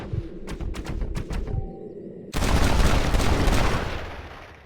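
Gunshots from a Cattleman revolver in a video game, with a quick run of sharp, loud shots followed by a heavier blast that leaves a sustained roaring wash of noise, close and alone with no talking.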